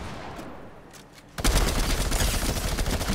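Gunfire in Fortnite's Bio Zone Wars mode: after a quieter opening, a loud rapid volley of shots breaks out and keeps going as a dense, continuous barrage to the end.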